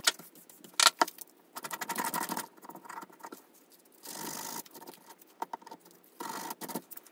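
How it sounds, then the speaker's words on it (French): A small piece of sandpaper rubs away material in uneven bursts of scratchy strokes, close and fairly loud, with short quiet pauses between passes. "On va essayer d'enlever le plus gros avec un petit peu de papier à poncer"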